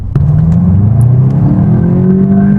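A VW Golf GTI engine revs up from a sharp start, its deep, boomy note climbing steadily and loudly with no talking over it.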